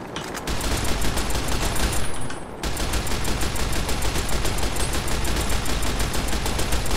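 Sustained gunfire from a Gauss rifle in Fallout New Vegas, a dense loud barrage running almost continuously, dropping briefly near the two-second mark before the rapid shots resume at full intensity.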